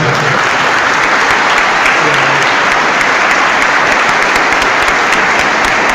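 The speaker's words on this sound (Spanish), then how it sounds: "Recibamos al hermano con un fuerte aplauso." A loud, sustained round of applause from a Christian gathering welcoming a guest, many hands clapping evenly and close for the full stretch with no break.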